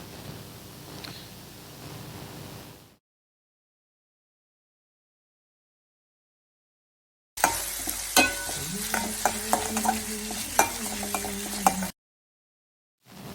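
Salted onions frying for masala dosa filling, heard as a soft sizzle that cuts to silence, then returns as brighter crackling frying with repeated scraping and clinking spoon strokes, and no talking.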